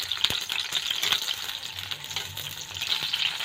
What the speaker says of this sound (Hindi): इसको हमने हल्का हल्का फ्राई करना है।